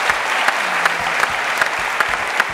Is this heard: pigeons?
no